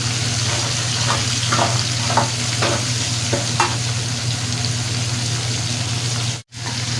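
Fish fries in oil in a loud, dense sizzle with a low steady hum underneath. Several spoon scrapes and taps mark the large spoon turning the pieces, and the sound cuts out briefly near the end. There is no talk.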